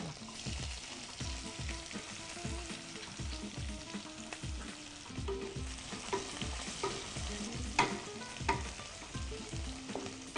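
Onions frying in oil with half a spoon of cumin, a steady close sizzle broken by regular scraping stirs of a spatula against the pan, with no talking.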